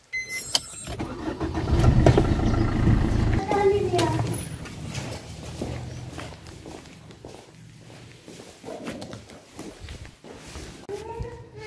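A diesel car engine cranks and catches with a brief loud rumbling burst, then settles into a low idle, with footsteps and voices around it outdoors.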